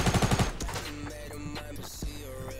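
Rapid bursts of tactical SMG fire in Fortnite Battle Royale open the clip with a loud rattling volley, then trail off into scattered, quieter in-game shots and effects with no talking.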